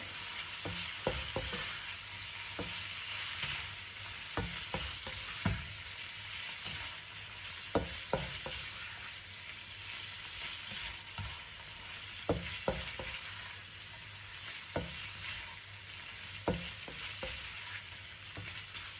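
Peeled shrimp fry in a wok under a steady hiss, punctuated by sharp utensil scrapes and knocks at irregular intervals as they are stirred, without speech.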